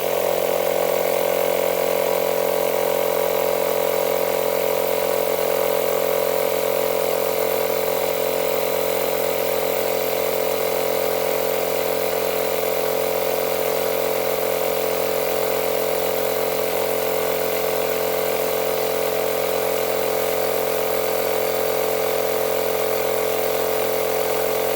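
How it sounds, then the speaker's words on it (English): A Makita DMP180 cordless battery inflator pumps up a tyre, giving a loud, steady, unbroken motor drone with a constant hum that runs close and uninterrupted throughout. "we're going to hook it up to a battery and have a go at blowing up a tyre with it"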